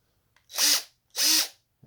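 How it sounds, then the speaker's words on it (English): A DeWalt DCD780 cordless drill, just fitted with new carbon brushes, whirs up and winds down twice in quick succession, each burst loud and close, with no talking. "Drill works."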